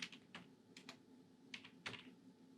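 Typing on a computer keyboard: a few quiet, scattered keystroke clicks in short bursts over a faint steady hum.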